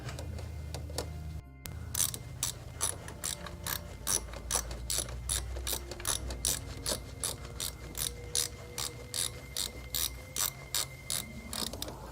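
A ratchet wrench tightens a crank angle sensor bolt on a car engine, starting with a few scattered clicks and then settling into a long run of quick, regular clicking strokes, close and fairly clear.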